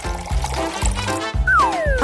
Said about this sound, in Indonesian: Tuangkan ke dalam mesin.